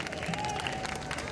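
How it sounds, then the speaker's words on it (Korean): Festival audience applauding at an outdoor opening ceremony for international performing arts troupes at a Seoul world city culture festival, a dense steady wash of clapping and crowd noise for the whole moment, fairly distant, with a faint voice underneath. "박수 부탁드립니다."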